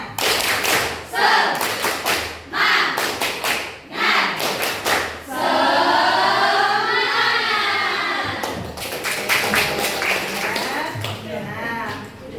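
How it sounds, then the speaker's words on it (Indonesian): Classroom of students performs a rhythmic spirit clap, patterned bursts of quick hand claps and thumps, with the class chanting along in a loud group voice in the middle before the clapping pattern returns. "Mana tepuk semangatnya?"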